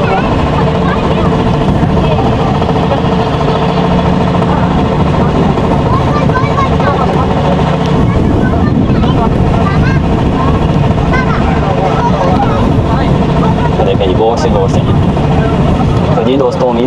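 A boat engine drones steadily and loudly throughout a ride from Kemari to Manora, a deep continuous rumble mixed with water and wind noise, with voices talking over it.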